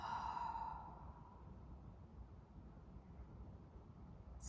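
A person breathes out slowly and audibly during a guided breathing exercise. The soft, airy exhale is loudest at the start and fades into quiet breath noise.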